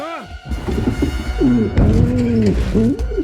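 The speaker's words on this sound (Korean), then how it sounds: "정신을 차리자마자 무섭게 노려보는 비둘기에 의해 깜짝 놀라는데요" Pigeon cooing in a close-up scene from Ant-Man and the Wasp, with several rising and falling coos in quick succession, near and fairly loud, over a muffled thud and film background sound.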